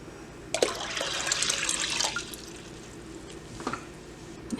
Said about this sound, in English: I'm going to add 10 cups of water.